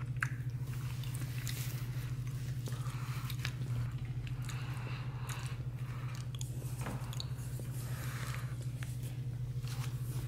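Someone chews a soft, chewy walnut cookie close up, giving faint, moist squishing bites over a steady low background hum, with no talking.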